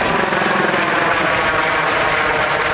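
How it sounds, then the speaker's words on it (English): A US Customs and Border Protection helicopter passes overhead near Organ Pipe in the Arizona desert, its steady, loud rotor and engine roar filling the whole stretch without pause, with no talk. "a helicopter flew overhead."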